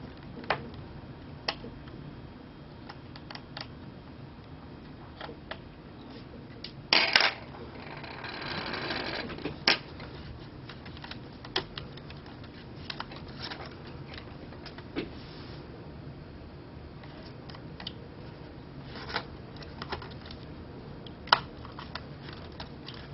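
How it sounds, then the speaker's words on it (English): Small sharp clicks and ticks, a burst of rustling and faint scraping come up close as the wireless card is removed from a Sony Vaio laptop under repair, scattered and quiet over a low hiss. "taking out the wireless card now"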